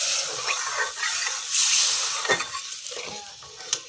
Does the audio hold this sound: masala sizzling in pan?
yes